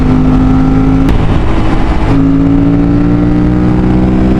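Aprilia RS457 motorcycle engine accelerating under way, a loud steady drone with a rising pitch and a brief shift break partway through, close and continuous with no talk.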